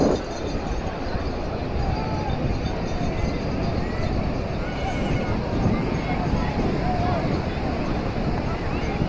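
A horse on the beach at New Digha, its neighs and hoof clops mixed into a steady roar of wind and surf, with voices talking in the background.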